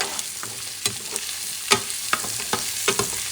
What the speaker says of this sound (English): Mix the stuff up.